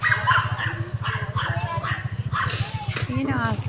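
A dog barks and yips in a home during children's playtime, with short sharp calls scattered over a steady low hum and chatter in the background.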